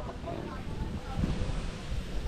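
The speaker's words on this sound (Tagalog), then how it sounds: "Grabe, hangin ha." Strong wind gusting outdoors at a construction site for a raised house foundation, a steady low rumble buffeting the microphone throughout and swelling in the middle.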